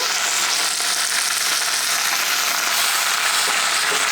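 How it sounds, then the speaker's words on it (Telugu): Steady, dense sizzle of ingredients frying in oil in a brass pan for chutney, close and continuous throughout with no talking. "మనం కొంచెం కొంచెంగా వేసుకుంటూ ఇది మంచిగా వేయించుకోవాలి"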